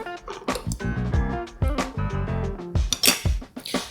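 Chicken pieces being flipped in a pan set off a series of clinks and metallic taps from the utensil against the cookware, irregular and close, with short pauses between the knocks.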